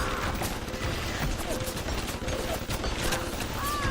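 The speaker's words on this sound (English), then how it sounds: "Who are you shooting at?" Continuous gunfire in BioShock, dense overlapping shots and clatter that carry on without a break through a noisy, busy scene.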